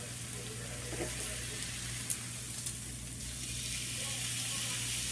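New York steak sizzling steadily in a pan, a continuous close hiss with a low hum beneath and a small clink partway through.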